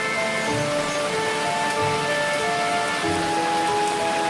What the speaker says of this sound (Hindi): बारिश अब और तेज थी।